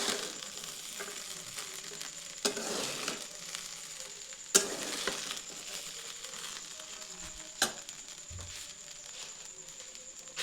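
Chicken fried rice sizzling softly in a hot pan as it is mixed, with a faint steady frying hiss and a few sharp scrapes and clinks of the spatula against the pan.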